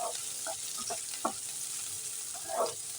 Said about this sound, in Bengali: এবারে এই তেলের মধ্যে দিয়ে দেবো আমি ক্যাপসিকাম কুচোনো।